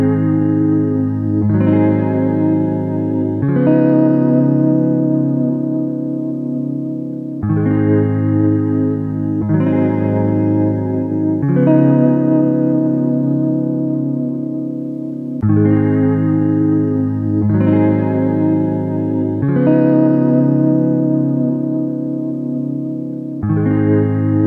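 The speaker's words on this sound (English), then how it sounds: "I'm going to use a little bit of the flanger on Nebula, sorry, by Soundspot" Sustained synth tone processed by the flanger of the Soundspot Nebula multi-effects plugin, with chords changing every few seconds and a continuous sweeping, swirling shimmer, loud and steady with no voice.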